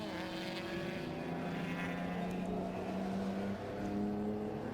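Classic racing cars lap the Snetterton circuit, engines droning steadily at a distance as they run through the left-hander at Palmer, one engine note rising and falling over the constant roar.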